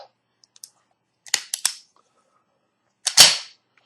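A CZ 2075 Rami pistol being handled and dry-fired, giving sharp metallic clicks and snaps: a few light taps, a quick cluster of three clacks, then a louder click with a short rattle, all close and alone.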